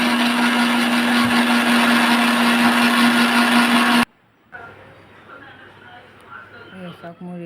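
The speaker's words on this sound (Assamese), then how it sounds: "এতিয়া মই প্ৰথমতে নৰসিংহ পাতখিনি মই অলপ মিক্সিত দি" A mixer grinder blends narasingha (curry) leaves, running loud and steady for about four seconds before stopping abruptly; quieter kitchen handling noises follow.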